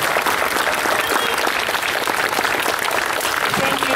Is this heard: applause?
yes